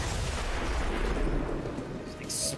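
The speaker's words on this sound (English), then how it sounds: "Explosions everywhere." Explosions in the video game XCOM 2, a dense rumbling roar of blasts and booming debris filling the whole stretch, loud and continuous.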